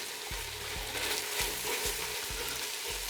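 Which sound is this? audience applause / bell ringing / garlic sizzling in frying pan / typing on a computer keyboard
garlic sizzling in frying pan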